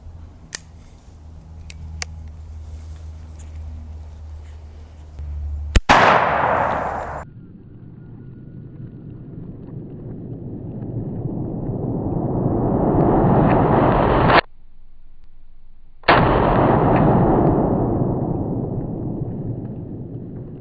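A rifle fires a T-Rex round into meat as a hog-hunting test: one sharp, loud report with a metallic clang, then a long rising roar of ambient noise that cuts out briefly and returns.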